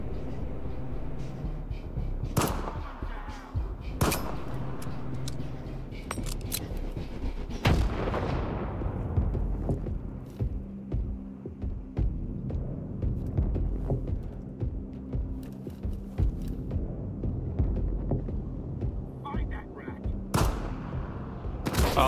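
Enemy gunfire in the shooter game S.T.A.L.K.E.R. 2, sharp scattered shots cracking out amid a low rumbling hum, some loud and close, others fainter, with occasional talking in between.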